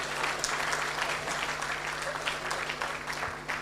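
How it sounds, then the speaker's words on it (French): Audience applause at a corporate gathering for a Liyeplimal presentation, a steady crackle of many hands clapping together at moderate distance, continuous with slight swells and a few louder claps. "M. Yomba, applaudissez pour lui s'il vous plaît."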